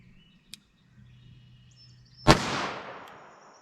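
A single sharp report from a 4-inch-barrel .38 Special revolver firing 125-grain Corbon JHP ammunition at a chronograph target four yards away, loud and close, with a long ringing decay; a faint click precedes it.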